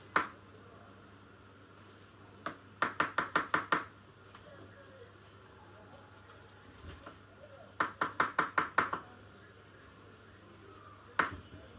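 A knife cuts okra (dherosh) on a board, being prepared for a shrimp dish: quick bursts of five or six sharp, close taps separated by pauses, with a few single chops, all fairly quiet with no talking.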